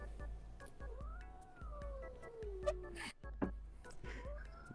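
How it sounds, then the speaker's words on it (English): An angry cat meows in a long, drawn-out, wavering yowl that rises and falls, fairly quiet and close, with faint background noise and clicks. "That cat was angry."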